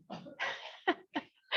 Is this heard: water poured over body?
no